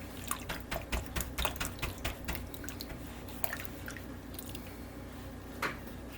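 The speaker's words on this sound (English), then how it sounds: "I'll just work up a lather here." Warm water and dish-detergent lather being worked over a model ship's hull, giving close, wet squishing and dripping sounds in an uneven rhythm of soft splashes, with no talking.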